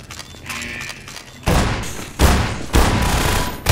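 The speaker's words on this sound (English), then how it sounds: "You did not just shoot at me with a shotgun." A shotgun fires in the video game Riot Act: several loud, close blasts in quick succession, each a heavy boom with a short decay, over a quieter background.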